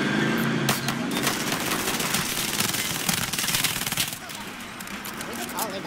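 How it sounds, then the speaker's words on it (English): Cluster strike explosions in Call of Duty: Warzone, a dense rapid barrage of sharp blasts and cracks crowding together, loud and close, easing after a few seconds. "I just accidentally called a cluster strike on ourselves"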